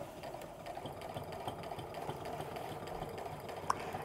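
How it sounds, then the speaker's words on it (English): A sewing machine runs with a quiet, steady whir while stitching an apron seam, with one brief tick near the end. "So as I'm sewing,"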